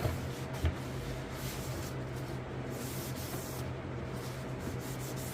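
A cloth rubs across a restored plastic gas tank from a 1988 RM250, a continuous close wiping hiss with steady texture and a faint low hum beneath.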